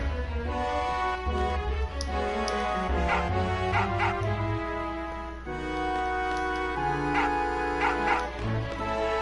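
A dog barking in the video game Final Fantasy VIII, short barks and yips mixed into a loud, steady musical score.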